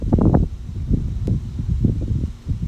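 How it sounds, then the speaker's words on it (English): Strong wind buffets the microphone in rough, low gusts on a campus, rumbling continuously and close with uneven surges. "Whoa, it's super windy now."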